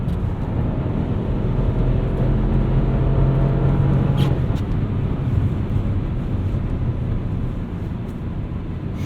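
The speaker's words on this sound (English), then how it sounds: "You can already hear that 3-cylinder getting a little throaty." A 2021 Chevy Trailblazer with a 3-cylinder engine and all-wheel drive, driving: steady, throaty engine drone and road rumble heard from inside the cabin, continuous and fairly loud.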